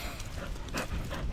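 A dog pants after rough play, quick breathy puffs close to the microphone in a short burst with no talking.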